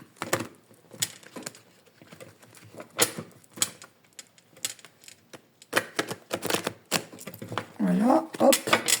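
Tarot or oracle cards shuffled by hand for a card reading, a run of dry papery riffles and taps in irregular bursts, close and moderately loud, with a brief voice near the end.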